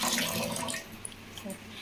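Water runs from a household tap, a steady, close hiss of flowing water with faint voices in the background.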